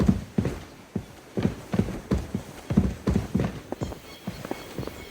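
Horse hooves clip-clop in a steady walking rhythm in Kingdom Come Deliverance II, close and distinct, with regular paired thuds continuing throughout and no speech over them.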